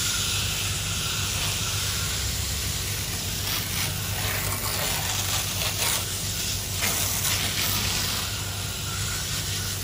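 A water hose sprays through the coil of a two-year-old AC condenser unit, a steady close hiss of rushing water that keeps going with no pauses and no talk.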